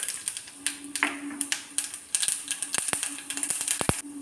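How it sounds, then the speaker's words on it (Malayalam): Mustard seeds pop and crackle in hot coconut oil, a rapid, irregular scatter of small sharp snaps, close by and fairly quiet. "കടുക് പൊട്ടി"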